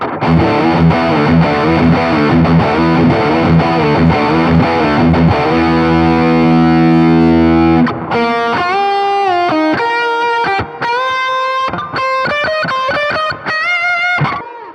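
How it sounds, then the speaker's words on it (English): An electric guitar played through a Fender Tone Master amplifier with two distortion pedals stacked, starting with loud, thick sustained distorted chords and then moving to sharper, choppy single notes and stabs, all alone and close. "Next level of the distortion, this is the red plus the nobles."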